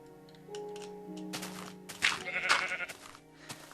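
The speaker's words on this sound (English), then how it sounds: "Sheep, where are you? There you are." Minecraft sheep bleat in a short burst of wavering cries over soft game background music, a couple of calls rising midway, with some clicky interface noise around them.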